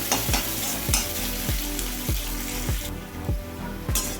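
Chopped onions fry in a pan for a bottle gourd dish, with a steady sizzle under repeated stirring strokes, a scrape or clack roughly every half second, close up and with no talking.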